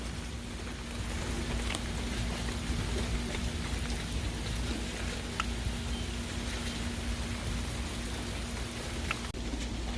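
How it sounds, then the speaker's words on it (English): A rainstorm during tropical cyclone season, steady dense rainfall pattering on surfaces with a constant wash of drops and a faint low rumble beneath, continuous and even throughout with no voices. "What did you think about this rainstorm, Justin?"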